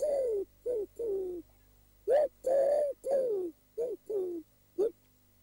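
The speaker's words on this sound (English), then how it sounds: "And those whose voices are deep, the wood pigeon." A wood pigeon coos in deep, soft, hooting phrases, several rhythmic calls with short pauses between them, close and clear over a quiet background.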